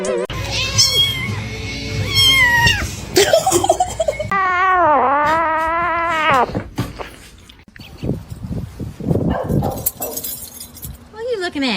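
A cat meows in a long, wavering, whiny call near the middle, close and prominent, while people laugh and talk around it before and after.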